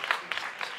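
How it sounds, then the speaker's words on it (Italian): Brief burst of applause from a live comedy show audience, including the balcony: a short wash of crowd clapping with a few distinct claps standing out. "Applausi anche dalla balconata."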